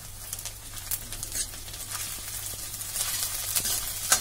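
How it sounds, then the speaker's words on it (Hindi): Onions frying in a pan for a Pahadi aloo thechauni, a steady soft sizzle with light stirring and scraping throughout, a faint crackle building toward the end. "प्याज भून जाएगा, इसके बाद हम इसमें पिसा हुआ मसाला डालेंगे।"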